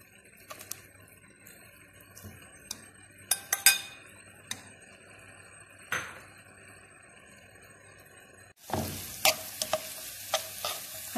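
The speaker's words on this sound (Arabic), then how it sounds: "نخلو هذا البصل يتقلى شويه" Onions fry quietly in a pan with occasional utensil taps and scrapes, then a sudden louder burst of sizzling and stirring as more goes in, the hiss staying steady and close.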